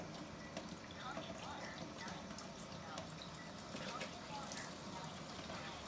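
Water runs through the filter of a brand-new water machine, a faint, steady trickle and hiss with a muffled voice in the background.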